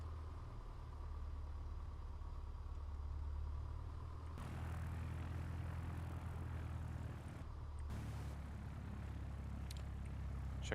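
Piper PA-38 Tomahawk engine droning steadily on a takeoff run in Microsoft Flight Simulator, a low continuous hum that shifts and roughens partway through, with no talking.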